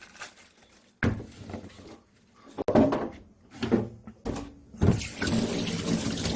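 Tap water runs in bursts into a kitchen sink while garlic cloves are rinsed clean, splashing starting and stopping several times before flowing steadily at the end.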